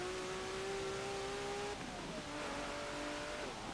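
A 1986 Lamborghini LM002 in Forza Motorsport 7 revs hard, its engine note climbing steadily then dropping and rising again as it shifts, loud and continuous with no talk.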